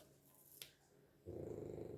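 A French bulldog snores softly indoors: faint, low, rhythmic rumbling snores that start partway through and continue steadily in a quiet room, with no talk.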